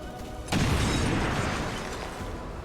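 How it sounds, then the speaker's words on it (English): A grenade blast in the turn-based tactics game XCOM 2: one sudden loud boom that settles into a long rumbling, crackling decay. "Throwing grenade."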